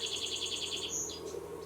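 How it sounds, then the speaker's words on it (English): Spring birds chirping outdoors: a rapid series of high, evenly spaced chirps followed by a couple of sharper single calls, faint and moderately distant over a steady low background hum. "The birds are out, as are the woodpeckers. It is spring."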